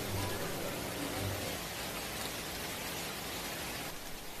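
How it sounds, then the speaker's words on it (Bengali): Heavy late-October rain falls in a steady, even hiss of dense drops, continuous and fairly soft throughout with no clear pauses. "অক্টোবরের শেষ দিকে চারপাশে কেবল বৃষ্টি।"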